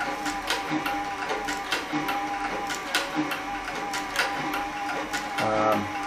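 A Cowboy CB3200 leather sewing machine, a saddle and harness stitcher, runs with nylon thread, giving a fast, even mechanical clatter of needle strokes close by, with a brief heavier change in pitch near the end.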